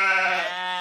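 A single sheep bleats in a Curious George farm app game, one short, clear, tonal bleat that is loud and close, with nothing else under it.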